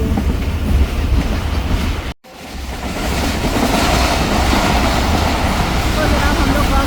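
The 102dn Subak Raftar railcar runs on the rails near Kharian on a morning journey, a loud, steady rumbling roar heard from onboard, cut by one sudden momentary dropout before the clatter resumes.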